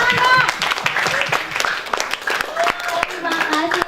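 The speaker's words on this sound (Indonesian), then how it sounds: "Ya, tepuk tangan" Applause from an audience at a national ICT olympiad event in Indonesia, scattered clapping running throughout alongside someone speaking over it.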